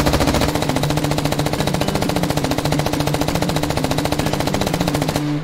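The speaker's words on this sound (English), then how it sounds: "The difference in volume of fire between the belt-fed M249 and magazine-fed M27" Belt-fed M249 machine gun in the game Squad fires one long unbroken burst at a steady fast cyclic rate, loud and close for about five seconds before stopping abruptly.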